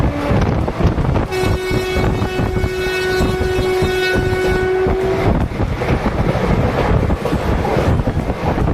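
Train passing near a railway crossing on an Indian line gives a loud, continuous rumble with wind buffeting and a long horn blast in the middle.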